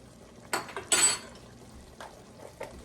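Goulash in a pot as paprika gets stirred in: two sharp clinks and scrapes of a utensil against the pot near the start, then a few fainter taps, close and quiet.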